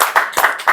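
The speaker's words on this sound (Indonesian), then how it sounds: "Nah, kalau yang begini tepuk tangan nih" A few loud, close hand claps land in a quick uneven rhythm, about three sharp bursts, from an audience listening to a village head's talk.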